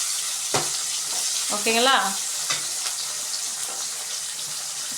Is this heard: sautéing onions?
yes